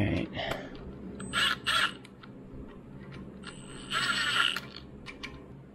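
Bolts are run down on the front disc-brake axle of an FJ40 Toyota Land Cruiser, making short, separate bursts of bright ratcheting clicks with quiet gaps between them, close to the microphone.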